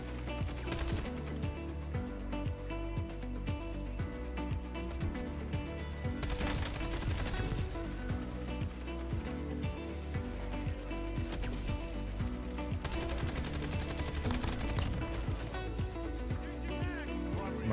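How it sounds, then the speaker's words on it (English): Persistent gunfire in the Black Ops 7 beta, fairly quiet and constant throughout, with a busy mix of in-game effects around it. "What are you shooting at?"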